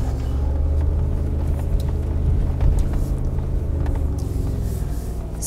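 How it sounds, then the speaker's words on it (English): A 2019 Mercedes G 500 4x4 is driven in a slow circle during off-road training, its engine giving a steady, close, continuous low rumble with no change in pace or any speech. "So now I drive in a circle and I try not to steer too much with the steering wheel"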